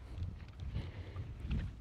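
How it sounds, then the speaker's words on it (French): Gusty wind at a seaside campsite in Perros-Guirec, Brittany, buffeting the microphone as low rumbling bursts that swell and fade over a couple of seconds, with no talking. "il y a un peu de vent"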